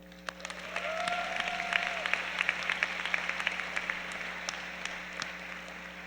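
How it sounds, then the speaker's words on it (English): At a high school baccalaureate ceremony, an audience breaks into a moderate round of applause, with scattered sharp claps over a steady low hum, holding fairly even to the end. "All of that and more deserves a big round of applause."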